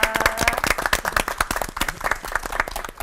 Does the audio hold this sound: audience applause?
yes